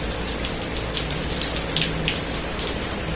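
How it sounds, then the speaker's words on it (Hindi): Steady morning rain pattering densely on surfaces close by, a continuous hiss with scattered heavier drops and no voices. "सुबह सुबह बारिश लग गई है आज।"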